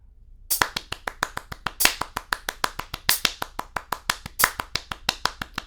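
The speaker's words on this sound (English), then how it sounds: "This is going to be really hard because I have to clap very fast." Hands clap very fast eighth-note subdivisions in a dense, close, steady stream, with some claps louder than others.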